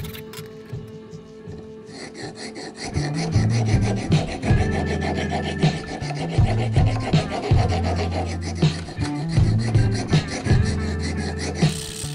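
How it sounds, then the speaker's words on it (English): An aggressive rasp files down a wooden surf fin, rough scraping strokes repeating close and fairly loud in an uneven back-and-forth rhythm over a low hum. "So I first started with a pretty aggressive rasp just to remove most of the material"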